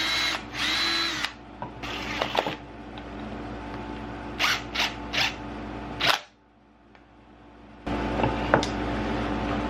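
Cordless power drill driving screws into a wooden French cleat for a battery charger in a workshop, with short bursts of whirring, a few brief taps, a pause of near silence, then another sustained run, close up.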